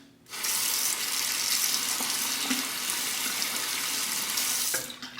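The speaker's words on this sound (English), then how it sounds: "now we'll rinse" A tap runs in a steady, loud, close gush into a sink as a razor is rinsed under the stream, starting abruptly and easing off near the end, with no talking.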